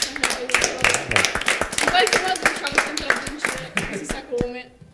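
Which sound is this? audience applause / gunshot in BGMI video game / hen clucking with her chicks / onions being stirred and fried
audience applause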